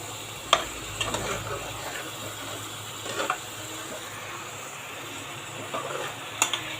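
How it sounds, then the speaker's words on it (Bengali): Fish bhuna cooks down with tomato and onion in a pan, giving a soft, low sizzle with scattered stirring clicks and scrapes, fairly faint and unbroken by talk. "মাছটা এমনিতে আমি ভুনা করে নিচ্ছি, কষিয়ে নিচ্ছি"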